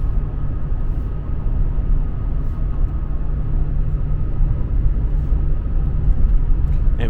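A diesel car cruising on the freeway at a steady speed, with a constant low road and engine rumble that stays even throughout and no talk over it.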